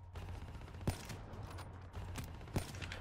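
Gunfire in Call of Duty Black Ops III, a few sharp, faint shots spaced about a second or more apart over a low rumbling battlefield bed.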